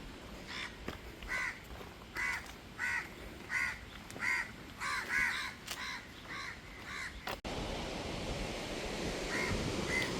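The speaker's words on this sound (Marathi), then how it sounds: "समुद्राचं हे दिसतं लाटा येतात दगडा आपटतात" Sea waves break on rocks below Ratnadurg fort in Ratnagiri. Crows caw repeatedly at first, then a steady, loud wash of surf roars on alone.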